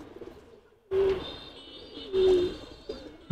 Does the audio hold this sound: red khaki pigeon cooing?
yes